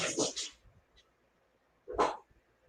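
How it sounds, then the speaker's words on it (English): A new red dog barks twice, a sharp bark at the start and another about two seconds later, fairly close and otherwise quiet. "got a new dog today"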